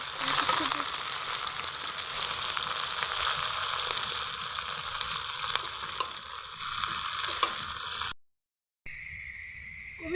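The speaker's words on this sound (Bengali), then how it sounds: "কপিগুলো দিয়ে দিচ্ছি হালকা করে ভেজে নেবো" Cauliflower fries in a pan with a steady oily sizzle and light stirring clicks, loud and continuous until a brief cut of silence near the end.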